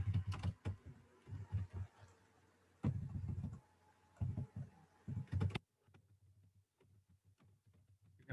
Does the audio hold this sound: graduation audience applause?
no